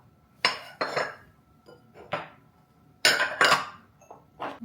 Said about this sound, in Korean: 얘는 이제 제가 처음으로 하나씩 모으게 된 세트 그릇이 됐어요.